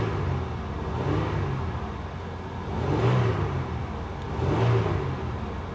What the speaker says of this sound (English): Let's rev her up a little bit.